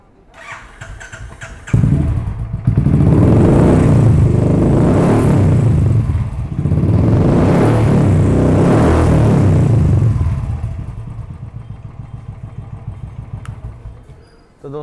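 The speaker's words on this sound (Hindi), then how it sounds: "हैवी साउंड का एग्जॉस्ट हमने इस बाइक में यूज़ किया हुआ है।" A customized Royal Enfield motorcycle fitted with a heavy-sound aftermarket exhaust starts up and runs loud and close, with a deep, thumping rumble that swells through two long revs before settling back to a steady idle.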